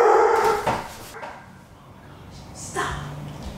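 A dog lets out a loud bark or two, then quieter yips and whimpers, close by, with a person's voice mixed in.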